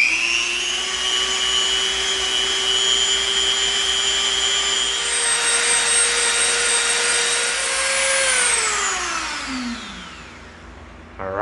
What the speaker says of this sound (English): Now we're going to Dremel these edges and look at the difference.